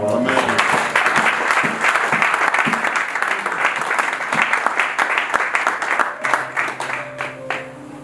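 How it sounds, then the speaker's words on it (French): A church congregation applauds in sustained clapping through most of the stretch, loud and dense, thinning toward the end as a sustained tone and a voice emerge underneath. "Est-ce que nous pouvons acclamer pour nous?"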